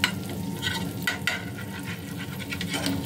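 Butter melting in a pan while being stirred, a soft continuous sizzle with scraping strokes of a spoon.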